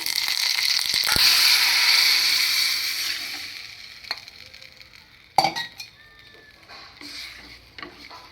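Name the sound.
tempering frying in hot oil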